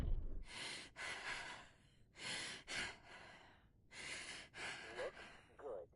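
Heavy, rasping breaths from a character in the video game Quarantine Zone come in several drawn-out inhale and exhale bursts, fairly quiet and close.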